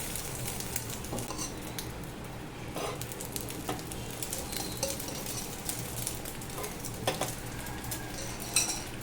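Oil poured around the edge of a ladle-style karandi omelette in a pan sets off a continuous close sizzle, with light metallic clinks of utensils against the pan throughout.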